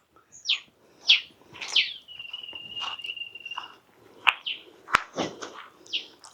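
Small birds call in green scrubland at a vacated army camp in Kilinochchi, a series of sharp separate chirps and whistles with a sustained insect-like trill in the middle, clear and close with no talking.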